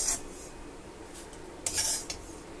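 Freshly fried sesame seeds are scraped from a pan onto a plate, with a few metallic scraping and clinking bursts from a utensil against the pan, close and fairly quiet, one longer scrape near the end.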